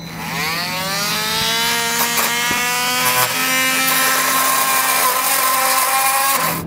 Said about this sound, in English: this multi-tool actually is working pretty good for me